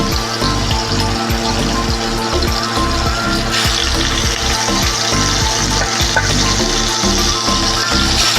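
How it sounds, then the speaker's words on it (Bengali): Hilsa fish pieces fry lightly in hot oil for mustard hilsa, giving a loud, continuous close-up sizzle and crackle that holds steady throughout without any talking. "আমি মাছগুলো একটু হালকা করে ভেজে নেব"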